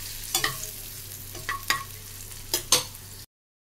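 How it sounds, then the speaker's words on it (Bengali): Paneer rubbed with salt and turmeric frying lightly in a pan, a soft sizzle broken by several sharp scraping and clattering stirs in small clusters over a low steady hum, then silence. "পনিরটাকে একটু নুন হলুদ মাখিয়ে দিয়ে একটু হালকা ভেজে দিচ্ছি।"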